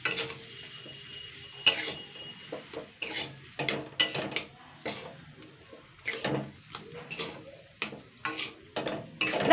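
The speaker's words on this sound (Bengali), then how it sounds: "এবার সমস্ত উপকরণগুলো দিয়ে আমি নেড়ে চেড়ে নেবো" Spices and ingredients for an atta, potato and egg snack are stirred in a pan, with irregular close scraping strokes and knocks over a faint sizzle.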